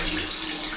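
A household tap runs with low water pressure, giving a soft, steady hiss of thin flow that stays faint and even throughout.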